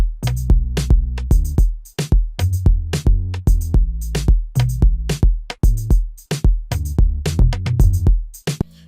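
Deep subsonic bass run through a Decapitator saturation plugin on its Dark Fat preset, paired with a loud, steady Afrobeat drum pattern of punchy repeated hits, all instrumental with no voices.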